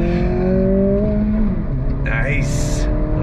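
A 2023 Acura Integra sport compact accelerates hard on track, its engine note climbing steadily and loud with a brief tire chirp, while a driver talks over it.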